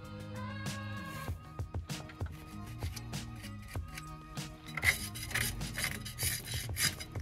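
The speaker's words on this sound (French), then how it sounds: "On gratte la merde. On essaie de nettoyer un peu" Scraping and rasping grime off the brake of an abandoned car, quiet irregular strokes and scrubs close by with clatters, getting rougher and more continuous toward the end.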